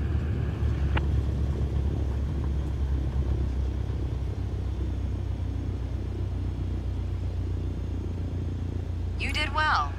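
A Cessna 152 braking to a stop on the runway in Microsoft Flight Simulator 2024 gives a steady low engine and rolling rumble that runs unbroken, with a brief voice near the end.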